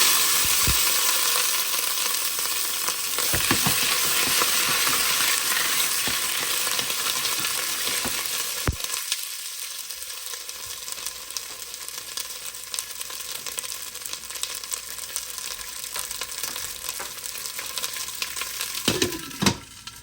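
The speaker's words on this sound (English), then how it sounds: "I put a lid on so y'all don't have to hear all the frying." Chicken wings sizzle and fry in a pot, loud at first, then muffled and quieter once a lid is put on, with occasional clinks and stirring.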